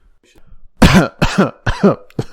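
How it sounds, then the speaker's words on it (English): Several loud, harsh throat-clearing rasps come in quick succession, close up and forceful, with a quiet lead-in before them. "I had to clear my throat there."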